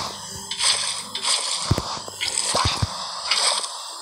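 Water placed to form an infinite water source in a video game, heard as several wet squishing and dripping splashes with sloshing spread across the clip, fairly close, with no talking.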